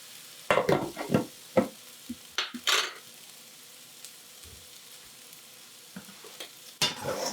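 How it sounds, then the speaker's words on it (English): Onions sizzle as they brown in a pan for a hot and spicy vegetable curry, with a soft steady fry under repeated scraping stirs of a spoon, close and busy early, then calmer before another scrape. "Keep browning the onion."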